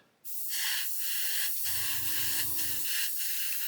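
An airbrush sprays paint onto a 1/32 Wingnut Wings Fokker E.IV model aircraft, a steady close airy hiss starting abruptly and running continuously, with a low pulsing hum joining partway through.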